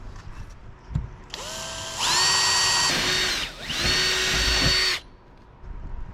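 A power tool sets a rivet pin on a sailboat's solar panel support structure in two close, loud, whining bursts of about a second each, with small clicks before and after.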